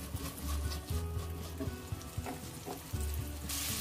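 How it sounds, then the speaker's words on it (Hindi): Capsicum and onions sizzle steadily in a hot pan, a dense continuous frying hiss with occasional soft stirring scrapes, close and alone without talk. "बस हल्का हल्का सौते करते हैं."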